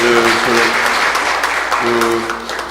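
Audience at a CEO business forum gives a speaker warm applause, loud continuous clapping filling the room, with a voice briefly heard over it.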